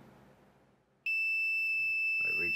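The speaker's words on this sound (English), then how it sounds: "I reach the low beats condition, which triggers the alarm" An Arduino-driven simulated heart rate monitor sets off its low-beats alarm, a sudden steady high-pitched tone that sounds without a break. A voice speaks briefly near the end over the tone.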